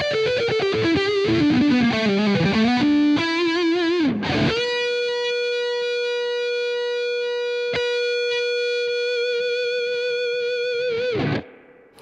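Electric guitar played through the Bognar pickup system with effects, starting with a heavily distorted, swirling phaser-toned run, then sustaining long ringing chords that fade out.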